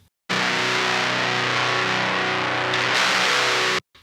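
Distorted electric guitar through a Darkglass Alpha·Omega 900 with no impulse response, a harsh, fizzy sustained chord held loud for over three seconds, brightening toward the end before stopping sharply.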